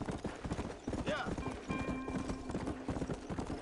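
Rapid clip-clop of galloping horse hooves in a video game in a steady rhythm, with a brief whinny and a voice talking over them.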